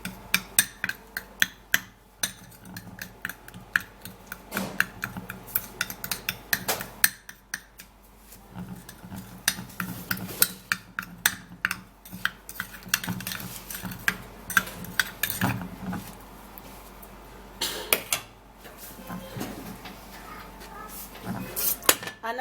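A spoon stirs teeth-whitening ingredients in a bowl, clinking and scraping in a quick, uneven rhythm of sharp close taps that runs throughout with brief pauses.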